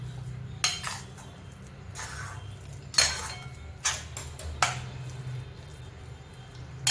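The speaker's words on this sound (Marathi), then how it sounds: "थोडासा भाजून घेऊया." Sweet potato pieces being stirred and roasted in a pan, heard as a handful of sharp metallic utensil clinks and scrapes spaced a second or so apart over a steady low background hum.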